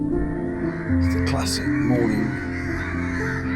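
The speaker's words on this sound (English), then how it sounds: "Crows going crazy." Several crows caw loudly nearby in Hikkaduwa, Sri Lanka, while a person speaks briefly over them.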